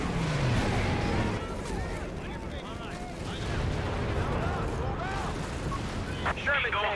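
In the video game Company of Heroes 3, a Sherman tank is destroyed amid a battle, with a dense rumbling roar of explosions and gunfire mixed with radio-style unit voices talking over the combat.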